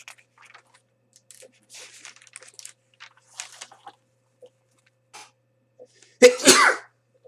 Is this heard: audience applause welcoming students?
no